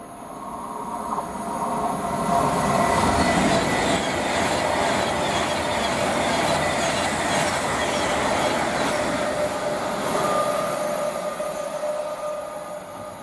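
A Class 390 electric train runs through Tamworth station on the West Coast Main Line, a steady loud rumble and rolling rail noise that swells and holds for several seconds before easing slightly as it passes.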